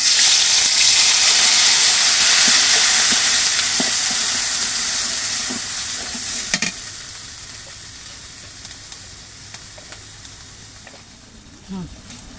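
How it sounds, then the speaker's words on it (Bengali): Ground spice paste sizzles loudly in hot oil in a wok, a broad steady frying hiss that gradually settles, with a few soft clinks of stirring and a voice speaking over it. "আর কড়াইতে আমার তেলটাও গরম হয়ে গেছে। এখন এই যে বাটা মশলাগুলো দিয়ে দেবো।"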